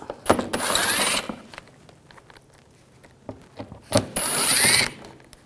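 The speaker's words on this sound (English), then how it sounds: "Now we're going to take these screws out on the inner fender well. Use a T25 socket." Ratchet fitted with a T25 socket backing screws out of the inner fender well on a 2011-2018 Volkswagen Jetta TDI wagon: two close, loud bursts of fast clicking, each about a second long, separated by quieter handling noises.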